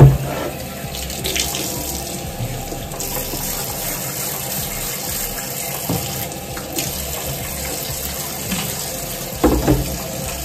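Tap water runs steadily into a sink while a slow cooker base is washed under it, a continuous close gush with faint clatter of handling and a brief louder splash near the end.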